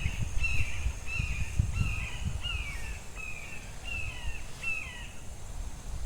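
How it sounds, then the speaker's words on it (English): A young hawk near a creek gives a series of about seven short, high, downslurred calls at a steady pace, moderately distant over a low, breezy outdoor rumble. "Sounded like a hawk, an ES, probably a baby."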